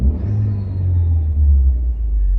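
A Citroen DS3 engine with a performance induction kit runs steadily, giving a deep, loud rumble up close with a slight swell in revs and no talk over it.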